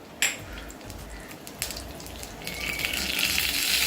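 Cumin seeds and a pinch of asafoetida dropped into a small pan of hot ghee for tempering chole, giving a crackling sizzle that flares sharply and then settles into a steady frying hiss.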